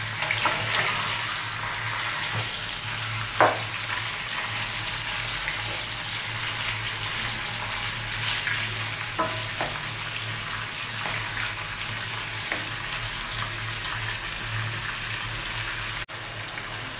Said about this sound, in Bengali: মাংসটা একটু ভাজা ভাজা করে নিলাম